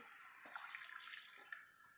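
Remaining water is poured into a cooking pan while making an eggless plum cake, giving a soft, faint splashing pour that lasts about two seconds.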